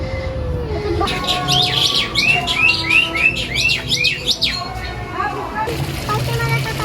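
Birds chirp in rapid, repeated tweets and short rising calls at Saloka Theme Park in Semarang, bright and close, with people talking and a hum of crowd noise underneath.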